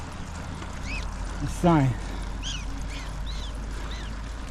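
Several short, high chirping alarm calls from prairie dogs repeat at intervals in the open air at Wind Cave National Park, with a brief spoken word and steady background rumble underneath.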